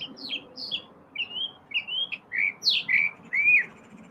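Small bird chirping and singing in a varied run of bright whistled tweets and trills, fairly close and alone over a faint low background hum.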